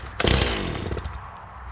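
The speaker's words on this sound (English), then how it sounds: "This thing does sound like a good chainsaw." A 54 cc chainsaw pulls over and fires up, a sharp roar at the start settling into a steady, close, loud running drone that carries on alone without speech.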